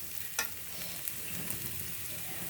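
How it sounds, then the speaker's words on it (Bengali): Dried fish and onion frying in a pan, a close, steady sizzle with a single sharp clink of a utensil near the start. "আমার শুটকি আর পেঁয়াজ লাল লাল করে ভাজা হয়ে গেছে"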